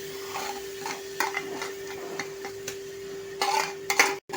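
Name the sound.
sautéing ground coconut, coriander and onion masala paste in a pan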